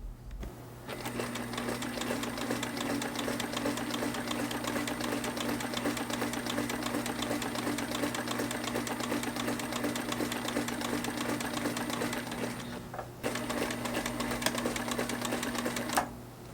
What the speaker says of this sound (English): The sewing part of this was really simple, just a seam down each edge and one down the center of the strap.